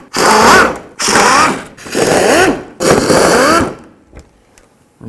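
A power tool zips out 10mm bolts holding the under-engine shield on a 1997–2005 Lexus GS300, in four loud, close bursts separated by short pauses.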